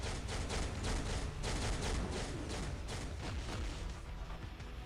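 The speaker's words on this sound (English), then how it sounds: "Big explosion there." Rapid, dense bursts of booming explosions and gunfire-like blasts from a battle in the mobile game Marvel Future Fight, loud and continuous with no pauses.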